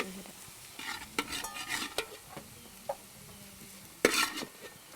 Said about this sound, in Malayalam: നാല് അഞ്ച് സ്പൂൺ നല്ലെണ്ണ ഒഴിച്ചതിന് ശേഷം ബാംബൂ ഷൂട്ട് നന്നായിട്ട് വഴറ്റിയെടുത്തു